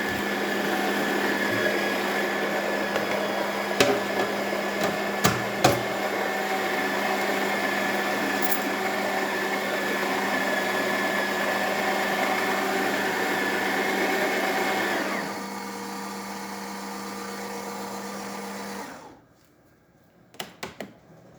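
A Breville coffee grinder runs on setting 21 through test coffee, a steady whirring grind lasting about fifteen seconds before its pitch drops and it winds down to silence, followed by a few light taps.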